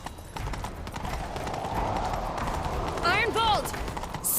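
In The Witcher 3, a horse gallops with rhythmic hoofbeats under loud game sounds, a short neigh-like whinny cutting through near the end.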